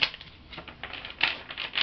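Tarot cards being shuffled make a run of soft, crisp riffling clicks and flutters in irregular bursts, close and fairly quiet.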